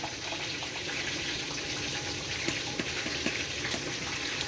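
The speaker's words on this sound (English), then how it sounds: "I'm going to go ahead and pour the mixture. It's a very nice liquidy mixture right in the soup." A liquidy tomato paste mixture poured into a pot of Ghana chicken light soup, giving a steady watery splashing and trickling stream with a few small plops, close and continuous without talk.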